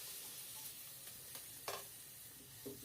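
Quiet, steady sizzling of potatoes frying in hot oil, with a few soft pops and stirring clinks.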